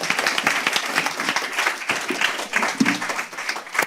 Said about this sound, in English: Everybody give them one last round of applause.